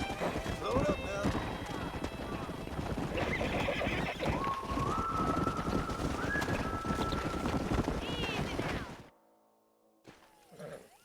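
A stallion in the Western video game Red Dead Redemption whinnies and neighs amid busy hoofbeats and clip-clop, the rising cries standing out before the sound drops away to near silence.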